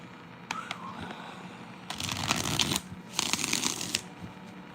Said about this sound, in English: I need a good shuffle real quick.